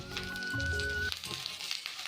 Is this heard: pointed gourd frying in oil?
yes